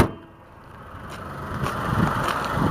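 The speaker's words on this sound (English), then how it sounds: "A four-cylinder engine, you can hear it running" Four-cylinder engine of a 2007 Chrysler PT Cruiser running under the open hood, a steady close-up mechanical hum that gradually swells slightly louder, with no talk.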